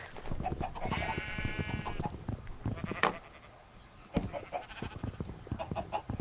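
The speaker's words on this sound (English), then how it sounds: "There's so many sheep over here." Sheep in the Minecraft video game bleat in short, nasal calls scattered through the clip, with a chicken clucking among them over quiet game ambience.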